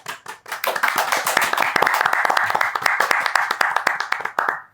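Podcast hosts clapping their hands together in a studio setting, a steady burst of brisk, close applause from a few people lasting several seconds.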